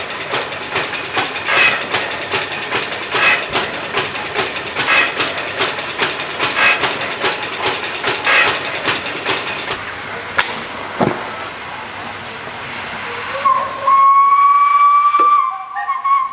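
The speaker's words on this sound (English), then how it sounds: "The Stirling cycle engine is a model of simplicity." A small model Stirling cycle engine runs with an even, rapid ticking beat for about ten seconds, then slows and stops, after which a thin whistle-like tone lingers briefly.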